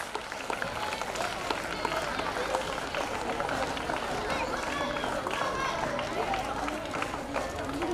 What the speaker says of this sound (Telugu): You encourage them with claps.